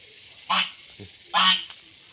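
Two loud, nasal honks from domestic geese and ducks a moment apart, with a soft low call between them, nearby and otherwise quiet.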